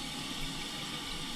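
A toilet tank refills with water after a new installation, a steady rushing hiss and trickle at moderate level with no pauses, running alone without voices.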